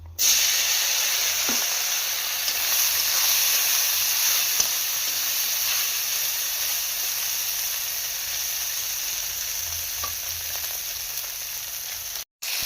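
Fish pieces frying in hot oil give a steady, loud, close sizzle and hiss that runs throughout with only faint clicks and no talk.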